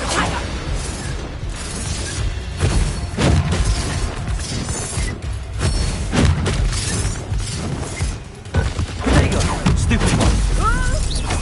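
Spell explosions from a Bombarda cast in Hogwarts Legacy burst repeatedly in a loud, dense battle mix, heavy booms and crashing impacts layered with mechanical clatter and brief speech throughout.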